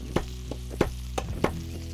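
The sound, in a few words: garlic and butter sizzling in a pan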